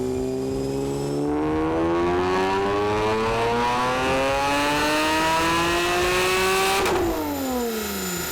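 A supercharged Nissan 370Z engine revs loudly, its pitch climbing steadily under load with a supercharger whine, then shifting and dropping sharply near the end.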